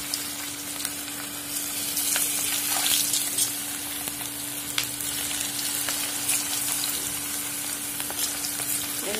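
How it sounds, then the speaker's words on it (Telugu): Gobi (cauliflower) pieces frying in well-heated oil for gobi manchurian, a steady, loud, close sizzle and bubbling crackle that runs the whole time without talk. "ఆయిల్ బాగా వేడెక్కింది, ఇప్పుడు మనం గోబీని వేసేస్తున్నాం."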